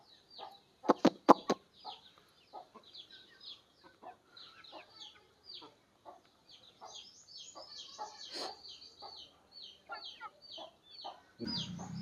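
Desi hens and chicks cluck and peep while eating mixed feed, a steady stream of small chirps close by, with a few sharp louder knocks early and a rustle at the end.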